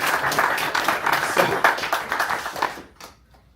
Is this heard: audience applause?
yes